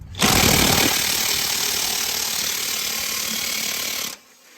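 A DeWalt power tool works loose a power steering bolt on a Jeep, one continuous loud ratcheting buzz running about four seconds before it cuts off abruptly, with no talking.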